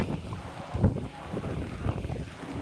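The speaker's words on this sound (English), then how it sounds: "Woo, it's windy." Gusty wind on a cruise ship deck buffeting the microphone with rumbling low-end noise, rising and falling in uneven surges, no voices.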